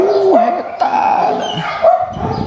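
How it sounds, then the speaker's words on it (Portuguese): Rescued street puppies yip and bark close by in quick, high, whining bursts, loud and continuous over a short stretch, with a little background noise. "Agora eu vou ali soltar os cachorrinhos."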